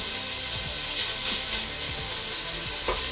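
Bacon frying hard in olive oil in a pot, a steady broadband sizzle with occasional crackles and pops, close and continuous with no talking.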